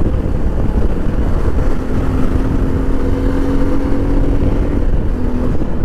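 Suzuki V-Strom motorcycle, fully loaded, cruising on a highway with its engine droning steadily and loud throughout, a rising tone suggesting revving through the gears, mixed with heavy wind rush.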